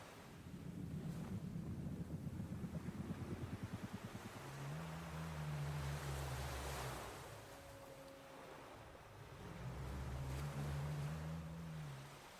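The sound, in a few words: ocean waves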